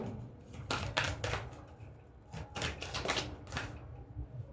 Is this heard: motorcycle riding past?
no